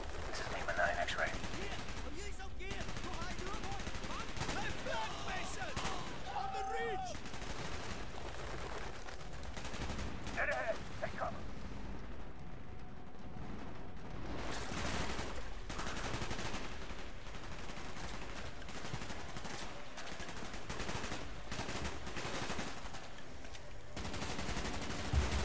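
Bursts of automatic gunfire and scattered shots crackle through a Call of Duty Black Ops firefight, steady and fairly quiet, with voices talking over the combat.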